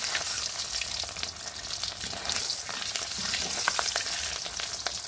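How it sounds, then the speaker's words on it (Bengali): Egg frying in a pan, a steady close hiss and crackle of sizzling oil with occasional sharp pops and light stirring scrapes. "ডিম ভাজা হয়ে গেছে, এখন নামিয়ে নিব।"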